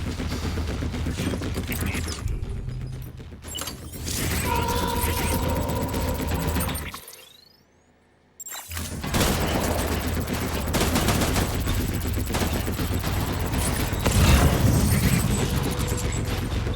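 Gunfire in the video game Death Stranding: bursts of automatic fire and booms sound close and loud over about seventeen seconds. They stop briefly for a near-silent gap, then resume.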